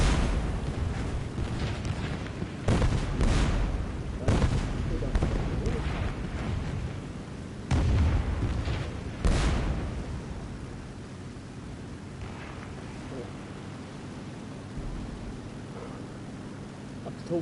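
Broadside cannon fire from a ship in a video game, a series of deep booming blasts with rolling rumble in the first ten seconds, then fading into a low steady background roar.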